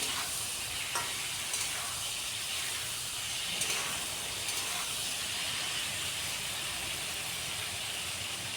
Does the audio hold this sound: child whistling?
no